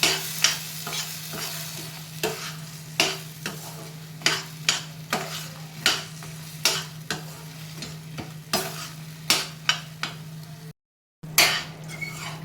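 Pumpkin simmering with black jaggery in a pan, stirred in steady repeated scrapes of a spoon against the metal over a low bubbling cook, close and clear with no talk, broken by one brief silence near the end.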